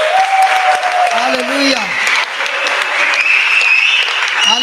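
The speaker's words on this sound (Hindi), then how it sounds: "हम प्रभु को जोर से ताली बजाएंगे।" A congregation at a Holy Eucharistic Adoration clapping loudly for the Lord, continuous close applause while voices shout and sing over it.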